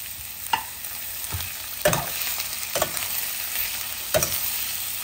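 Beans, carrot and capsicum being stir-fried for veg fried rice, a steady sizzle in a pan with a few distinct scraping stirs of the spoon spaced across the clip, close and clear with no talking.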